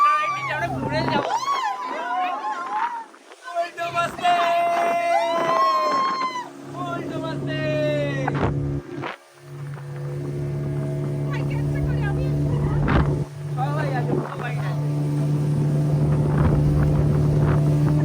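Speedboat ride on the sea at Puri, with a steady engine drone and wind buffeting the microphone throughout, while people talk and call out excitedly over it at close range.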